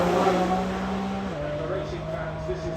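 A Lamborghini Temerario supercar drives by at the Goodwood Festival of Speed, its steady engine drone dropping in pitch partway through, loud and continuous under crowd and commentary noise.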